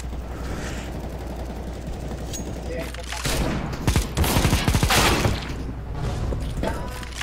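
Video game gunfire erupts in rapid bursts of sharp shots midway through, loud and close over a constant background hum, with some voices mixed in.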